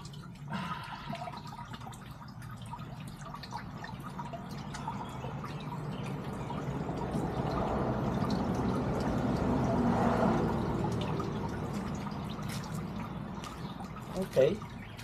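Water flows out of a water pump being tested outdoors, a trickling pour that swells toward the middle and then eases, with a voice talking over it.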